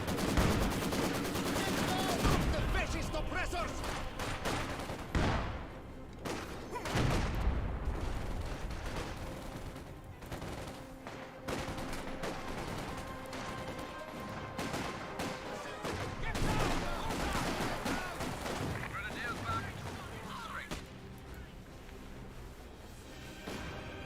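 Artillery barrage in Company of Heroes 2, with repeated booming shell impacts and bursts of gunfire rolling through a busy battlefield, loud at first and tapering slightly, with a commentator's voice under the blasts.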